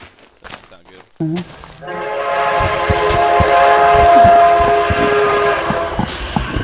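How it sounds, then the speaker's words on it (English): A loud train rumbles past close by with a long, sustained horn blast rising over it and holding for several seconds, after brief scattered noises at the start. "that was a loud train in my background"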